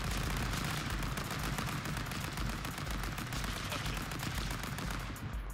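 Rapid automatic AK gunfire in the stick-figure brawler Stick Fight, a dense, loud, continuous burst of crackling shots filling the whole stretch with no pauses.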